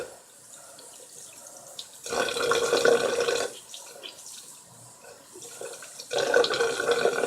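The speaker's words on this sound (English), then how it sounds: "I got that soap I got to rinse out" A makeup sponge rinsed of soap under a running tap, with bursts of splashing water starting and stopping as the sponge is squeezed, close and moderately loud, separated by quieter pauses.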